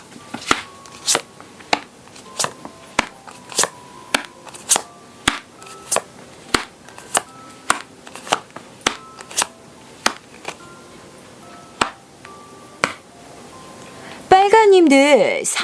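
Tarot cards being laid out for a reading: a steady series of crisp, close taps and flicks about every half second, ending in a brief rustling flurry.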